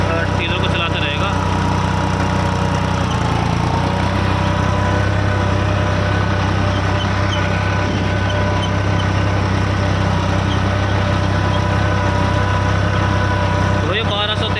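Diesel tractor running at about 1200-1300 rpm while pulling a cultivator tiller through a field, a steady loud mid-low engine drone with little variation throughout, someone talking over it at the start and end.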